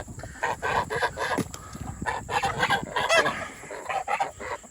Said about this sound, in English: Give the big chickens some scraps.